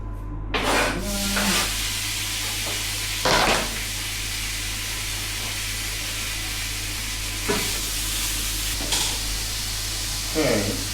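Steak sizzles steadily in a hot frying pan, a continuous broadband hiss with a few louder scraping or stirring bursts and a steady low hum underneath, no one speaking.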